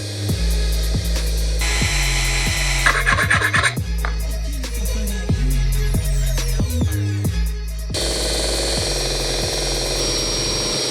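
A loud power tool grinds a costume part for an Assassin's Creed Brotherhood Ezio outfit in a continuous whining drone, its pitch and texture shifting as the tool presses and scrapes, with rhythmic thumping pulses running throughout.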